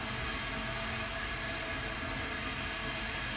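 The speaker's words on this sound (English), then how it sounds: "Sounds like something venting." Ground equipment at a rocket launch pad vents with a steady, broadband roaring hiss that holds at an even level for a few seconds, distant-sounding and with no voices over it.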